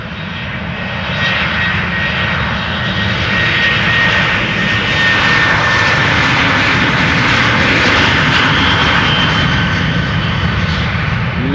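A KLM Boeing 737-700 jet takes off at Amsterdam Schiphol Airport, its engines a loud, steady roar that holds throughout with a broad rushing hiss and a thin whine riding above.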